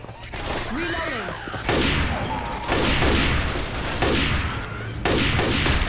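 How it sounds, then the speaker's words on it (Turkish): Sniper rifle shots in Left 4 Dead 2 during a hotel level: a series of heavy, evenly spaced booming shots with echoing decay and fainter game sounds between them, with a voice heard in the background. "Bu sniper de güçlü vuruyor ya."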